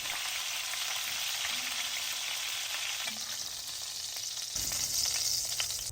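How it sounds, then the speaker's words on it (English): Beef short ribs searing in hot oil in a Dutch oven make a loud, steady sizzle and crackle that runs the whole time and swells slightly near the end. "We're going to sear all of the sides of the meat until brown and crispy."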